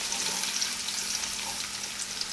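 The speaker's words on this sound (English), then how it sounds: "then we'll start to fry the onions, like right here" Steady, bright sizzling of onions frying in hot oil, a continuous crackle with no voices.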